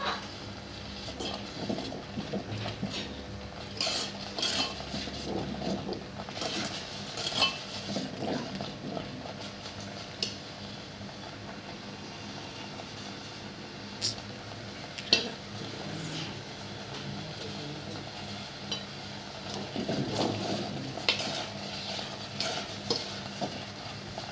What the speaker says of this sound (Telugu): ఫ్లేమ్ తగ్గించుకొని చక్క నిదానంగా తిప్పుకుంటూ ఉండాలి